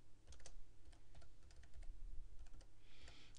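A computer keyboard is tapped in short scattered clusters of keystrokes as a folder name is entered, soft and near, with no talking.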